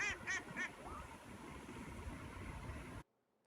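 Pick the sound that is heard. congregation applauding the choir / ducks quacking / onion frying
ducks quacking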